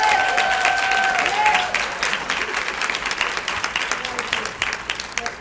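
A room full of people bursts into sustained applause for Director English at a union partnership celebration, loud and dense throughout, with a brief tonal sound near the start and voices mixed into the clapping.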